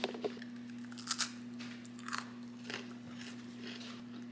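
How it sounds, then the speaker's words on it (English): Quiet crunchy bites and chewing into a very crunchy burnt, caramelized dessert, a few sharp crackling crunches over a low steady hum. "This is a very, very crunchy burnt one for the Burke."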